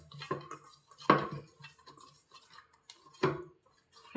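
Dough for namak pare being mixed in a bowl, a few scattered knocks and clinks of the bowl with soft handling noise between them, close and moderately quiet, with no talking.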